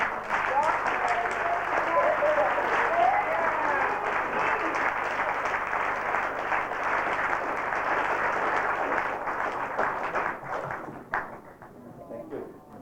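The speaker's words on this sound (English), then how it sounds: "Please join me in giving him a round of applause." Sustained audience applause at an MBE party, a dense wash of clapping from a crowd that holds steady for about ten seconds and then fades toward the end.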